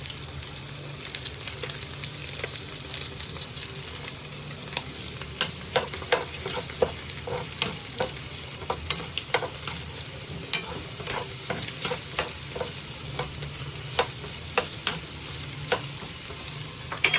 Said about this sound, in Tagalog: ilalagay ko na yung ating sibuyas